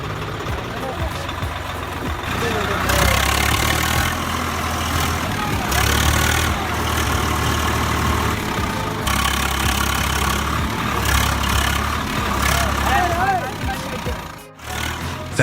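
A Swaraj 704 FE tractor stuck in thick mud runs its engine as the wheels spin, a loud, close diesel drone that surges and eases in waves, with a brief dip near the end.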